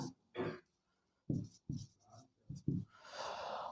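Chalk or marker writing on a board during a maths lesson, with several short scratchy strokes separated by pauses and recorded up close, with no talking.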